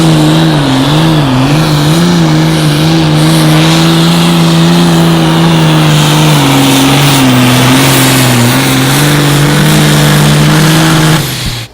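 A pulling tractor at an outlaw tractor pull roars at full power, a loud, sustained engine drone with slight pitch wavering throughout, ending abruptly.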